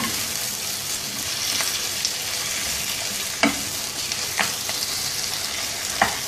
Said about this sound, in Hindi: साथ ही इसमें शामिल कर देंगे टमाटर। अच्छी तरह से मिक्स कर लेते हैं।